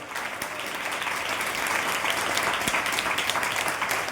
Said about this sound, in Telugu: కొట్ట చప్పట్లు గట్టిగా